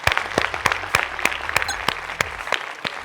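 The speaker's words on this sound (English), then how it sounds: "Round of applause for Anirv." A small group claps for a participant at an indoor sales-challenge session, with distinct individual claps spread unevenly over about three seconds, fairly close and with no talking.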